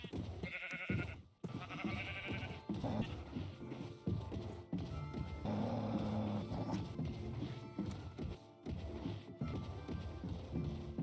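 Sheep in a video game bleat several times in short, wavering calls, mixed with other game sounds and brief gaps, with no speech.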